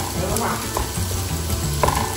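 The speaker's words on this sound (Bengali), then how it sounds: "আলুটা একটু ভাজা ভাজা হয়ে গেছে।" Potato pieces fry in a pan for pasta with a steady close sizzle, and a utensil scrapes and stirs through the hissing.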